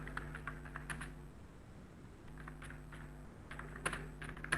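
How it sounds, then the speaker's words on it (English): Clicks from typing on a computer keyboard come in quick irregular bursts with short pauses, faint and close, over a steady low electrical hum in a quiet room. "I am going to type here again."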